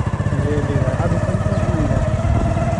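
A motorcycle engine runs steadily throughout, with a continuous mid-range drone heard close up while riding, as on a trip along a road; talk seems to continue faintly in the background.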